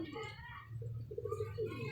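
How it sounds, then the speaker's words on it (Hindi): Pigeons coo softly in short repeated bursts, faint against a low background rumble with a voice nearby. "वसीम भाई ये कबूतर मेरा बहुत उड़ा यार"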